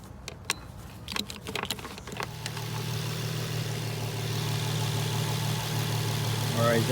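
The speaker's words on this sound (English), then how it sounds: "as you can see, I turned on the engine" An Infiniti G35 with a VQ35HR engine being fixed for a PCV leak starts up after a few nearby clicks and clanks, then settles into a steady, close, low idle hum with a voice talking.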